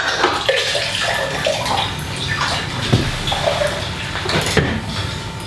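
Beer brewing liquid pouring and gurgling as it drains out of a hose line, a loud, close, continuous splashing flow with occasional knocks and gurgles.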